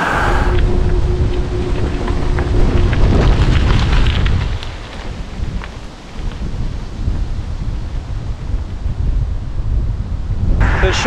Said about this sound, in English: the wind's like whipping me around